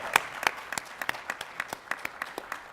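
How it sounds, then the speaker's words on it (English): Scattered, separate hand claps from a small audience at a Latino/a political engagement panel, about ten sharp claps spread unevenly over a few seconds, thin rather than a full ovation. "So I think that's worthy of another round of applause."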